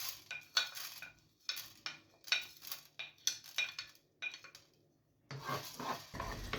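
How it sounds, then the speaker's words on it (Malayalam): Coriander seeds dry-roasting in a pan while being stirred: a spoon scrapes and clinks against the metal in a steady series of strokes, with a rattling rustle of seeds and no talking. "ഇനി ഞങ്ങൾക്ക് പാനിലേക്ക് കൊറിയാൻഡർ സീഡ് കൂടി ഇട്ടിട്ട് നല്ലോണം ഒന്ന് റോസ്റ്റ് ചെയ്തെടുക്കാം."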